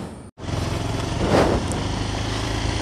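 An old motorcycle in Kerala idling steadily before a ride, a close, even engine drone after a brief cut at the start, running alone without talk.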